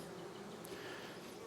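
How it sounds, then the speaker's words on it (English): Honey bees buzz around a hive outdoors in the sun, a soft continuous drone of many insects at a steady level, with no talk over it. "The bees are happy."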